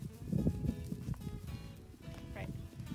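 Horses moving about on a muddy farm, with soft hoof clops and shuffling close by under people talking, brief and fairly quiet.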